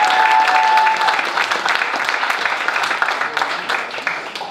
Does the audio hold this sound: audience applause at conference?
yes